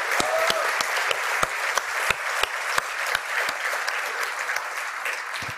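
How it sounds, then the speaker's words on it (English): Keynote audience applauding the demo team, a steady wash of clapping with sharp individual claps standing out near the mics, sustained throughout at an even level. "So let's give them one big round of applause also."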